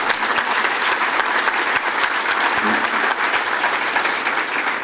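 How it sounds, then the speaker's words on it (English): An audience at a celebrity breakfast event applauds the volunteers with sustained, dense clapping. It stays loud and even for the whole stretch, with no talk over it. "let's give our volunteers a round of applause"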